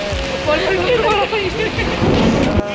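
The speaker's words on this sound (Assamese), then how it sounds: "এয়া চামতাৰ পৰিৱেশ আপোনালোকে চাব পাৰে কেনেকুৱা বৰষুণ দিছে" Heavy monsoon rain pours down with rolling thunder, loud and continuous throughout, the downpour drumming on surfaces close by while a voice faintly murmurs underneath.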